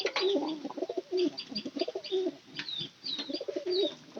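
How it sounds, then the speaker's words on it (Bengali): A domestic pigeon coos repeatedly up close, throaty rolling calls in quick bursts with brief pauses, clear and unaccompanied by talk. "দেখি এটা ডাক কেমন হয়।"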